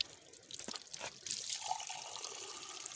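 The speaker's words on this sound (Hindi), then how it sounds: "अभी थोड़ा सा दोबारा पीते हैं पानी" Water pours and trickles into a drinking glass, a soft, steady liquid splash with a few brighter drips, fairly close and quiet, with no talking over it.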